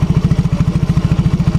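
A Yamaha X-Ride motorcycle engine with a sputtering, misfiring fault and abnormal combustion runs close and loud, with a quick, even, chugging pulse throughout.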